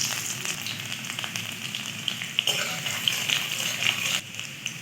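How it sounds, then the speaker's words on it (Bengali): Chopped garlic hits hot mustard oil in a kadai and sizzles and crackles steadily throughout, a close, even frying hiss. "তেলটা গরম হয়ে গেছে, এর মধ্যে দিয়ে দেবো কিছুটা পরিমাণে কুচনো রসুন।"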